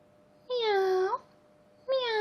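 A person imitates a cat, giving two drawn-out meows, the first longer and the second cut short, voiced clearly and close during a toy figure unboxing.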